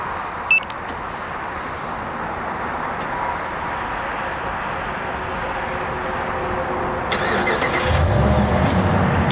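A car engine cranks and catches after a Compustar R5 remote starter is triggered, with a steady idle rumble throughout and a brief electronic beep near the start.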